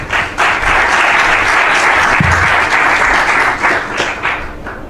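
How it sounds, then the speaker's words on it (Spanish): A conference audience applauds steadily for several seconds, a dense wash of clapping that stays loud throughout with a few stray voices mixed in. "Un aplauso para David, por favor."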